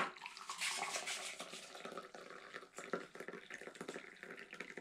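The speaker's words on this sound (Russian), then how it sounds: "Наливаем с чайника и наливаем с термоса в другой стакан." Chaga tea poured from a kettle and then a thermos into glasses, a steady close liquid splashing and trickling with faint clinks, no voices.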